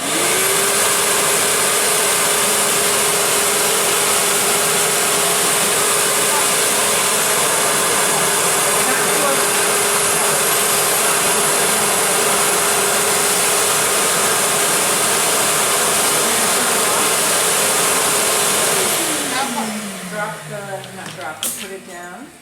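A household vacuum cleaner roars loudly and steadily with a constant whining hum, then powers down near the end, its pitch sliding downward as the motor spins to a stop.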